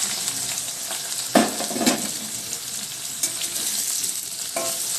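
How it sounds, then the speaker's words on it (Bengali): Onions and slit green chillies sizzle steadily in hot oil in a pan, with a bay leaf added for a Bengali aubergine and katla fish curry; constant frying hiss with a few louder stir crackles, close and alone. "এগুলি এবার একটু ভেজে নেব।"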